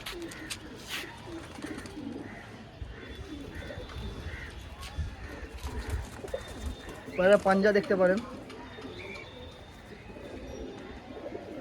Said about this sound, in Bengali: একদম ছোট্ট ঠোঁটের পায়রা আছে সুলেমান কাগজি পুরো সেট পেয়ার আছে